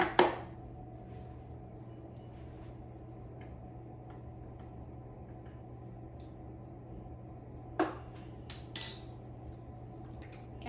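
Vegetable oil being stirred into blueberry muffin batter for the air fryer, heard as a few sparse spoon-on-bowl clinks, one at the start and two more near the end, over a steady low background hum.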